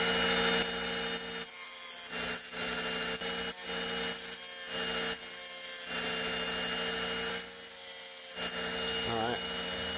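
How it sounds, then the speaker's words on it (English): A hand file scrapes back and forth across the end of an engine piston ring during a DIY rebuild of a forged BMW M50 engine, giving repeated close rasping strokes with short pauses between them. "I'm only grinding one side and then coming in with this file between every Dremel just so there's no sharp edges"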